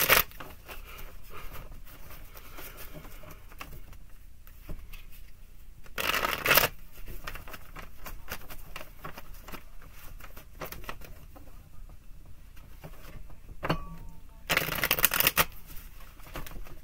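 Tarot cards riffled in a quiet room, with two loud bursts of rapid shuffling standing out against faint background rustle.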